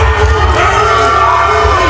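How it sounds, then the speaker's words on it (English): Spectators cheering at a calisthenics competition at the Dutch nationals, a loud continuous wash of crowd voices and shouts, close and unbroken for a couple of seconds. "Great support from the crowd."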